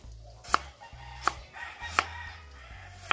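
Irish potatoes are sliced with a knife for Jamaican-style steamed fish, four sharp separate cuts about three-quarters of a second apart. Each cut lands on the board with a crisp knock, close and alone.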